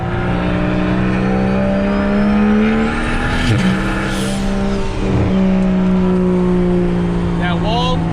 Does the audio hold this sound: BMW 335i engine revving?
yes